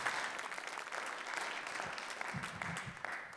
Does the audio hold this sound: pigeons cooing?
no